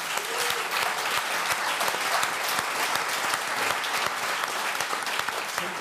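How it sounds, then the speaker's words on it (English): An audience at a games culture panel event gives sustained, dense applause for the guests, loud and continuous with individual claps standing out throughout. "Please give a big applause to the guys."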